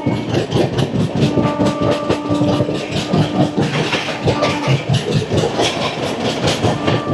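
A Samaleswari Express train runs along the tracks between Howrah and Uluberia, giving a steady, loud rumble with rhythmic clickety-clack from the wheels and no voices.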